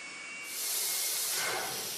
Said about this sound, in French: Dans ce laboratoire, des ingénieurs britanniques testent la prochaine génération de réacteurs.